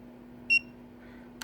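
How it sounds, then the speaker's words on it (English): A single short, high electronic beep sounds once in a quiet room with a low steady hum underneath, followed by a faint click. "That's first beep, second beep,"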